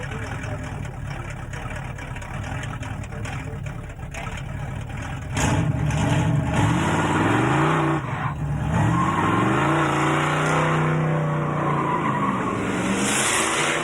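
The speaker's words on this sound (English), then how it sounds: "Smoking them is easy when you've got a 454 up front." A car with a 454 big block engine does a burnout at a street machine event, a loud engine revving in rising and falling sweeps over a constant roar of squealing tyres and crowd noise.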